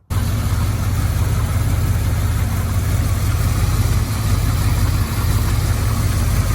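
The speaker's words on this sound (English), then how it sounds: "we're going to try starting up the engine and see if we can see anything" A Triumph Stag car engine with a suspected blown head gasket runs steadily close by, a continuous low rumbling idle with a slight rough pulse throughout and no voices.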